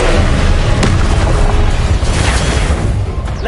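A Confringo fire spell explodes in Hogwarts Legacy, played on PS5. A loud, close boom fills the whole moment with a sharp crack, then a rumbling blast that slowly fades.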